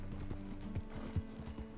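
Horse hooves clip-clop in a video game, a quick run of close, steady hoofbeats with a few heavier thuds standing out.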